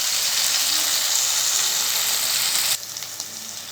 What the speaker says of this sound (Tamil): இது வதங்கி வரட்டும்.